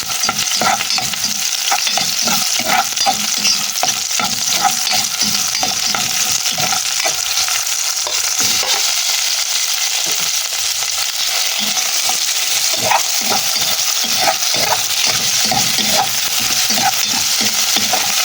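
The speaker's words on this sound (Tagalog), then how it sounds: "ginisa lang natin yung yung kanyang sibuyas, bawang at luya at saka nilaw ka ng karne" Onion, garlic and ginger sauté in a hot pan with steady crackling sizzle and repeated scraping stirs, close and continuous throughout, no voices.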